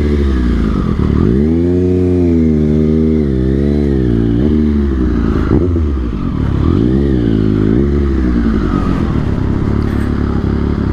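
A Triumph Street Triple 765RS motorcycle engine revs hard and close, with several sharp swelling bursts and a rising and falling howl over an idling base, loud and without speech.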